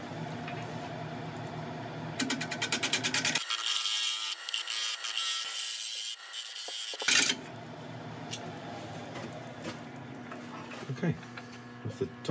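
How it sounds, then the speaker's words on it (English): Wood lathe tool cutting into a figured chestnut bowl blank as it is hollowed, a scraping, rubbing sound with a brief louder burst in the middle and close, steady cutting noise throughout. "then we can start the interesting job of hollowing it out."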